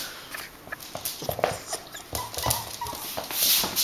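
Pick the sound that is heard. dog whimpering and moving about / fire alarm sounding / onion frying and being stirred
dog whimpering and moving about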